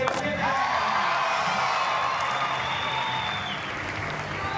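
Spectators at an X Games skateboarding event in Foz cheer, whoop and applaud through a run, a sustained wash of clapping and shouts with faint higher whistles and an announcer's voice talking over it.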